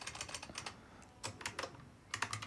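Rapid clatter of computer keyboard keys in short bursts separated by brief pauses, fairly quiet and close, with no voices.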